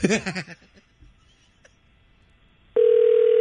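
A phone call rings out while waiting for pickup: a short burst of voices and clatter, then a quiet pause with faint noises, then a loud steady ringback tone starts and holds.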